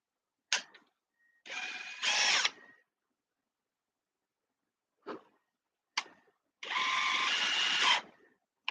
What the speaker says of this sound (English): the drill bit is stuck in the hole